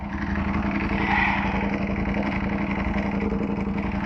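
Ducati V4 Streetfighter engine running steadily while riding, a dense, continuous mechanical drone with faint rhythmic pulsing, loud and close throughout with no notable revving.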